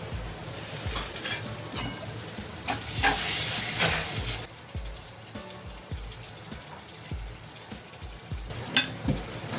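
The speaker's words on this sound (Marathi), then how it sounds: "कांदा मसाला आपण परतून घेऊया. टाकू टमाटा." Onion masala and tomato sautéing in a pan for Maharashtrian stuffed brinjal, a steady close sizzle with scraping stirs that swells loudest for a few seconds midway, then settles into quieter frying with occasional clinks.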